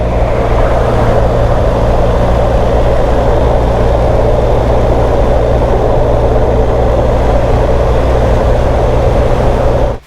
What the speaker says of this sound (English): Tire noise.